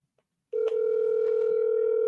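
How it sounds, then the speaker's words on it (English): A telephone dial tone on an outgoing call starts abruptly after brief silence and holds as a loud, steady, unbroken tone, with faint clicks underneath. "Let's see if these people answer the phone."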